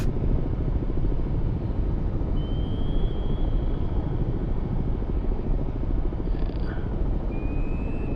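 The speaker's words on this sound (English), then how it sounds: "there's the helicopter that's off the back of the Kirov" Naval helicopter lifting off the back of a Kirov battlecruiser in the submarine game Cold Waters, a steady low rotor drone filling the scene evenly, with faint high tones drifting above.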